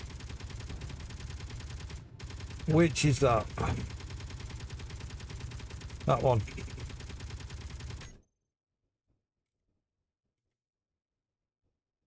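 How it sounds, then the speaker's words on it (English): An assault cannon in a space-engineering video game fires continuously as a rapid, even mechanical rattle for about eight seconds, with louder bursts layered on top and brief talk, then cuts to silence. "Assault cannon."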